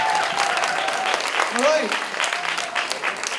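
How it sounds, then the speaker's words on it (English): An audience claps steadily through the clip while someone speaks briefly over the applause. "let's give a very big round of applause"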